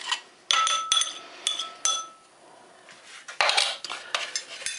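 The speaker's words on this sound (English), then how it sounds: "Let's get that all out into the bowl." Kazakh 24-hour breakfast ration of buckwheat kasha with beef emptied into a bowl: sharp bursts of spoon and metal clinking and scraping against the dish, separated by short quiet gaps, close up.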